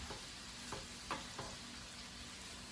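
Summer squash and onions cooking down in butter in a pan for a squash casserole, a steady soft sizzle with a few light stirring scrapes, close and fairly quiet, no talking.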